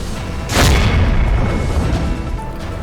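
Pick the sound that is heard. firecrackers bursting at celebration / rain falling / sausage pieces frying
firecrackers bursting at celebration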